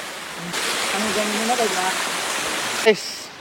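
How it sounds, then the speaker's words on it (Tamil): Broad, steady rushing water fills the scene from a nearby waterfall at Hogenakkal, with faint voices murmuring underneath and a short sharp sound near the end. "வெத்தலை மலையில் பார்த்தீங்கன்னா ஒரு ஃபால்ஸ் கிட்ட வந்திருக்கோம்"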